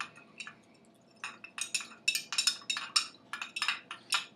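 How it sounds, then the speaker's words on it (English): A spoon stirs a mixed alcoholic drink in a glass, giving a rapid run of bright, close clinks and taps that build in a loose rhythm, with no talk. "Alright, now we're going to stir."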